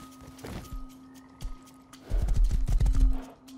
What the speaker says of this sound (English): Ooh, horse, gimme.